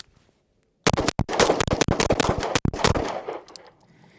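A rapid volley of handgun shots fired at targets, a dozen or so sharp cracks in quick uneven succession after a brief silence, close and loud with no talk.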